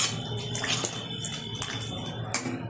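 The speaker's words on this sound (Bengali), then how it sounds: "এখন দিয়ে দেবো এই অবস্থাতেই পরিমাণ মতো জল।" Water is poured into a pan of jute greens cooking with jackfruit seeds, a close, steady splashing trickle with a few louder sloshes over the whole stretch.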